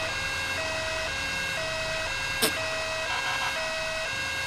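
Ambulance siren in the GTA 5 video game, a steady repeating two-tone wail cycling through the whole stretch over game engine and traffic noise, with a brief sharp click partway through.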